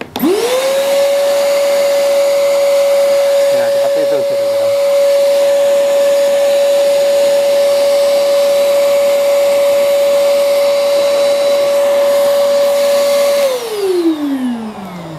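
A vacuum cleaner's motor blows air with a loud, steady whine that holds for several seconds, then winds down at the end. A brief spoken remark is heard.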